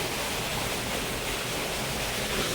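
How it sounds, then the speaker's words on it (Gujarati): Water gushes out after a farm pump motor is switched on, a loud continuous rushing hiss that stays dense and steady throughout, with no talking. "ભાઈ તરાવનું પાણી આવી ગયું મોટર અહીંથી ચાલુ થઈ ગઈ"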